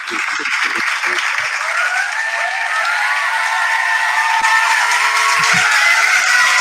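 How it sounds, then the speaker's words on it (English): Audience applause following a spoken-word poetry performance, a dense, sustained wash of clapping that stays loud and steady throughout, with a few brief voices or thumps underneath. "First of all, that applause is lit."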